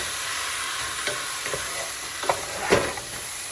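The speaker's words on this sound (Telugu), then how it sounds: "చికెన్ వేసేసుకున్నాం, కలుపుకుంటే అయిపోతుంది" Chicken stirred with browned onions in a pan sizzles with a steady frying hiss, broken by a few soft spoon scrapes and clacks against the pan.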